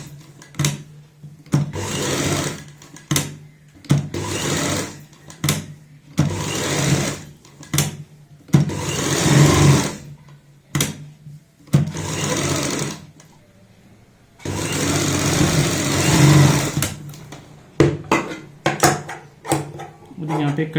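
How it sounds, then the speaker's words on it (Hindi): Domestic sewing machine stitching the inner seam of a baby girl's frock, running in repeated short and longer bursts of whirring with pauses between, while someone talks during the gaps. "अब हम अंदर की साइड भी सिलाई लगाएंगे।"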